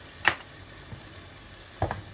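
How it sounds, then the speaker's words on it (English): A spoon scrapes and clinks against a pan as ground spices, turmeric, coriander and garam masala, are stirred into hot aubergine, three brief strokes with quiet gaps between, no voice. "Now I'm going to mix all the spice into the aubergine."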